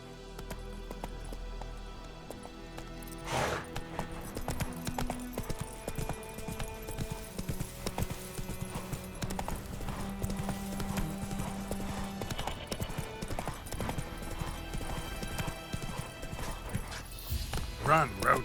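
Roach the horse gallops in The Witcher 3, with steady rhythmic hoofbeats over constant game music, plus scattered effects and a brief bright sound near the end.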